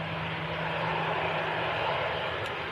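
A Ryanair Boeing 737-800 bound for Agadir at Manchester Airport gives a sustained jet engine roar with a low steady hum beneath, loud and constant across the short stretch with no speech.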